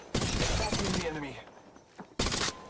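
Video game gunfire in two loud bursts of rapid shots, the first rattling for about a second before fading, a brief pause, then a second burst, with a voice speaking between them.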